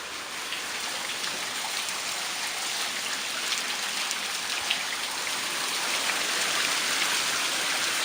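Heavy, steady rain pours down outside a flood-prone Houston neighborhood during Hurricane Harvey, a loud continuous hiss of drops striking surfaces with no voices.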